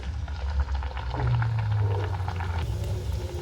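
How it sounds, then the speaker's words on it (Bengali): Pumpkin and semolina snacks dropped into hot oil in a wok, a steady bubbling fry that swells slightly midway, close and continuous with no talk. "এবার আমি এর মধ্যে নাস্তাগুলো দিয়ে দেব এক এক করে আমি ভেজে নেব"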